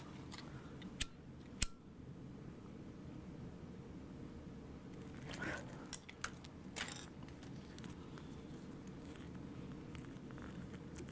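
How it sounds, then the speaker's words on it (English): Scissors trimming the excess zipper tape on a clear Rosie Sling bag being sewn, giving a few sharp, close snips that are quiet and spaced apart, then a cluster of small clicks and handling noises. "Trim my zipper tape excess."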